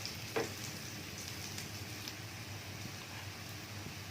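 Tempeh fries in oil in a pan until golden. A soft, even sizzle continues alone throughout, with one brief knock near the start and no voices.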